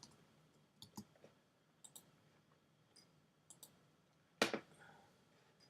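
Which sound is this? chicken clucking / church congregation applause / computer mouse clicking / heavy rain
computer mouse clicking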